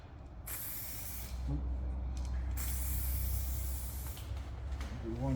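Aerosol spray paint hisses out in long steady bursts, laying a light first coat on a Volkswagen GTI part, with short pauses between passes and faint voices underneath.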